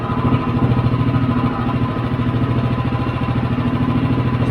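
A Predator 212 small engine runs close by with a loud, rapid, steady putter, its firing pulses even and unbroken throughout, with no voices.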